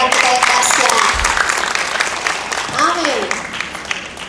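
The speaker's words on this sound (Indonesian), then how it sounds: "Sekali lagi kita beri tepuk tangan buat Tuhan kita yang dahsyat." A church service congregation applauds for God, a dense continuous patter of clapping that starts loud and thins gradually, with voices calling out over it.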